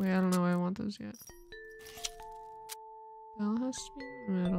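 A bell on a wreath in the puzzle game A Little to the Left gives short clicks and a pair of soft, ringing chimes with sustained tones, heard between stretches of someone talking.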